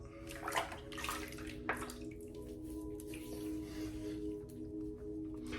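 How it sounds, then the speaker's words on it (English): Water splashing and dripping as hands and face are rinsed at a basin before a straight razor shave, with steady running-water wash and a few louder splashes, close and moderately quiet, no talking. "Now we'll set that aside and rinse our hands and face."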